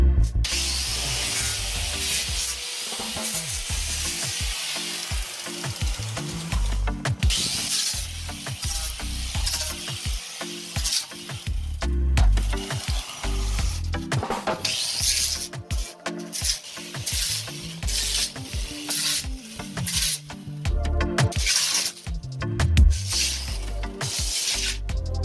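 Shaving excess material off building framing with a hand tool, a steady scraping and rasping that runs on and off with short gaps, close by and fairly loud.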